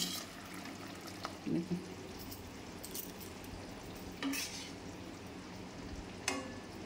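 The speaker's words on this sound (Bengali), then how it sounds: "এই বড়াগুলো এক এক করে মিশিয়ে দেবো" Fried fritters are stirred one by one into vegetable biryani rice, with soft sizzling, a few scrapes and knocks of a utensil against the pot, and brief murmurs of speech between them.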